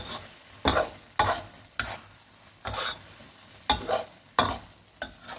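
Chili paste and minced pork being stir-fried in a pan, with regular scraping strokes of the spatula roughly every half second over a steady sizzle, close and fairly loud, no voices.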